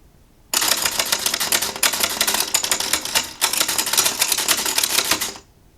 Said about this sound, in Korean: 타자기 소리가 조금 더 뒤에까지 나고 있어요